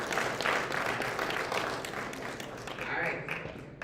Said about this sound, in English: You guys clap it up for him.